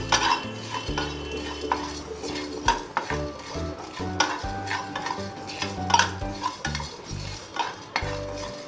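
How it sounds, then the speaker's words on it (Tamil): Pepper and fennel seeds dry-roast over a medium flame in a pan for a chicken fry, with continuous close scraping and rattling from stirring and a faint sizzle underneath. "மீடியம் ஃப்ளேம்லேயே வச்சு லைட்டாக வறுத்துக்கோங்க."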